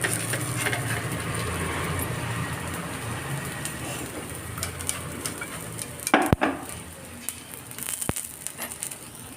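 Onion paratha frying on a hot pan, a steady broadband sizzle running throughout with a couple of sharp utensil clicks near the end, no talk.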